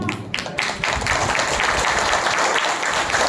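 A church congregation claps together as an offering to God, a dense burst of many hands that starts ragged and settles into sustained applause.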